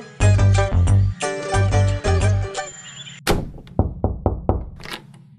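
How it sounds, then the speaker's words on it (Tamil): At home, a door is slammed shut with one sharp, heavy bang after a loud burst of music, followed by a quick series of hard knock-like thuds at close range. "கதவுக்கு இவ்வளவு வேகமா சாத்துறீங்க?"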